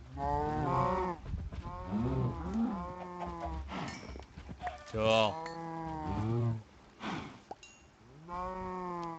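Cows mooing in a video game, a series of loud, drawn-out bellowing moos repeating back to back across the whole stretch, with a brief spoken word slipped in between calls.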